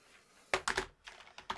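Several quick clacks of typing on a computer keyboard, close and crisp, arriving in a short irregular burst of about five keystrokes after a brief quiet start.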